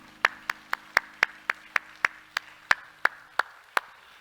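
A church congregation claps together in a single, evenly spaced rhythm, about a dozen crisp claps in quick succession that are loud and close, with a faint steady hum underneath.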